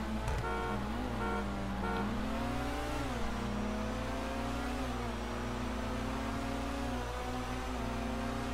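A car horn honking in the GTA 5 video game during a drag race, a sustained tonal blare that wavers in pitch over an engine drone, fairly quiet and continuous, with no voices.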